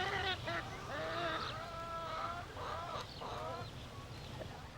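Chickens on a farm in southern China, clucking and squawking in a busy overlapping series of calls at close range, with ducks and other livestock nearby and a steady low background rumble beneath.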